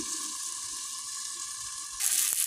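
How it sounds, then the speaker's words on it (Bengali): Eggplant slices coated in spice paste fry in a hot pan, giving a steady, close hiss of sizzling oil that swells louder near the end, with a brief clink as the pieces are turned. "এই যে উল্টে পাল্টে ভাজছি তাড়াতাড়ি হয়ে যাবে"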